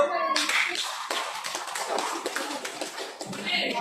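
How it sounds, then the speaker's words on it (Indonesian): At a school presentation on positive classroom culture, a group of people claps hands in a run of sharp, scattered slaps, with talking going on among them. "Boleh tepuk tangan dulu Bu."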